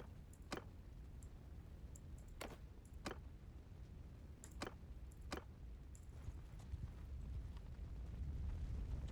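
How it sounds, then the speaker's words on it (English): Fire crackles in the samurai video game Shokuho. Faint, scattered sharp snaps and ticks pop up every second or so over a low, steady rumble. "I don't know why I'm hearing fire sounds."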